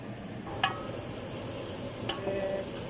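Onions fry golden brown in a pan for chicken curry, a soft, steady sizzle with a couple of faint utensil clinks, quiet and without speech.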